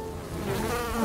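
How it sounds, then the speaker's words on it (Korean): A housefly buzzes close and steady for about a second, a continuous droning hum that swells slightly louder toward the end, with no talking over it. "뭐지? 저리가 파리!"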